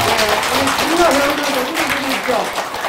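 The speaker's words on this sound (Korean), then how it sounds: "큰 박수 부탁드리겠습니다." An audience at a Buddhist ritual lecture gives sustained applause, a dense wash of clapping that holds steady throughout while voices talk over it.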